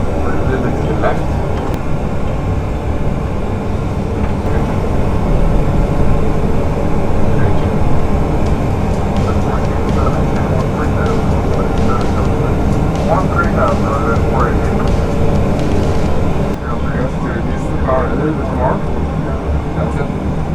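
Jet engines of a Boeing 737 flight simulator roar at full power, a loud continuous broadband rumble and whine that fills the whole span, with voices talking faintly underneath.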